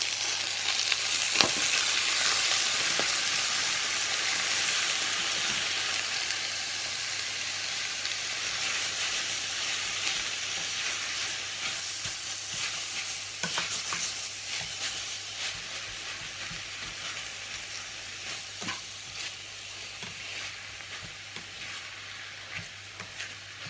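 A long, even sizzle of food stir-frying in a pan for a rustic Isan bamboo-shoot dish, with a few scrape clicks scattered through and the hiss easing slightly toward the end.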